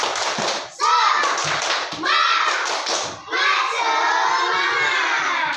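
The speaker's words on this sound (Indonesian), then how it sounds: "Tepuk semangat." Children in a classroom clap a rhythmic tepuk semangat chant, bursts of clapping and shouted words in repeated short phrases, loud and close, led by a teacher's voice.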